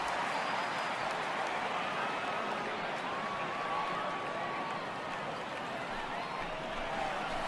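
A large home ballpark crowd at Coors Field in MLB The Show 18 roars and murmurs continuously, a dense steady wash of stadium noise with scattered claps.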